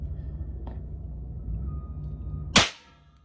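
A 209 shotgun primer loaded with a .410 charge fires once near the end, a single sharp, loud crack after quiet moments with a faint click, decaying quickly.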